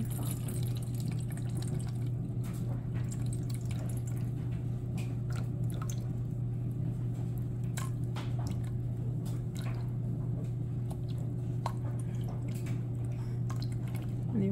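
Water is poured steadily into a container while making homemade face cream, a continuous liquid trickle with faint drips over a constant low hum, no voices present.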